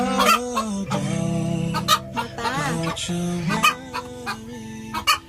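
Hens clucking and squawking loudly inside a backyard coop where laying birds crowd the nesting spots, a near, continuous chorus of overlapping calls with sharper cries throughout.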